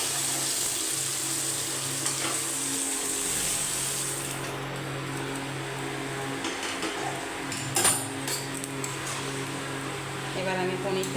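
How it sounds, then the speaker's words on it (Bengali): Paneer cubes fry in a pan for a chana paneer curry, giving a steady broadband sizzle that holds throughout, with a brief clatter near the end. "কিছুটা পনির ভেজে নিয়েছি, বাদ বাকিগুলো ভেজে নেবো।"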